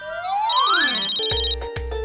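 A phone rings with an electronic ringtone: a rising sweep, then bright repeated tonal chimes with short gaps. It is clear and close, with no voices over it.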